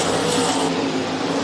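Race cars roar around the Rapid Speedway track during a heat race, a dense, loud engine drone with no clear single pass-by.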